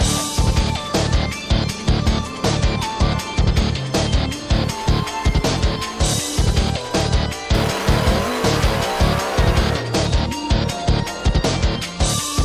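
Race cars, including a Toyota Supra in the Limited Street class, roar loudly at a drag racing event, with repeated rhythmic engine bursts and revving pulses sustained throughout, and no talk.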